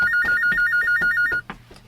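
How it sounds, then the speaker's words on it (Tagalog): A telephone rings with a rapid warbling electronic trill repeated in quick pulses, steady and clear, then cuts off, followed by a few soft knocks. "unsa naman ang telepono? May pagting man na, sige na, tubagan na"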